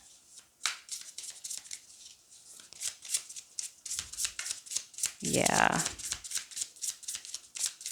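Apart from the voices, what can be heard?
shuffling a deck of tarot cards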